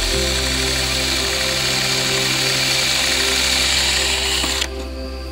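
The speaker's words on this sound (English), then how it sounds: "For the record, I'm just getting a rough drill right now going." Power drill rough-drilling holes in knife scales in a workshop, a loud steady motor whine with a constant pitch that runs continuously, then drops off sharply near the end as the bit spins down.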